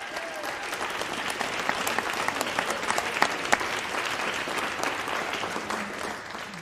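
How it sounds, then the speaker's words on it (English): Audience applause fills the hall at the Cornwall Heritage Awards 2026 ceremony, a steady, dense wash of many hands clapping at moderate volume, with a few sharper claps standing out, sustained throughout without speech. "I think that's worth another round of applause"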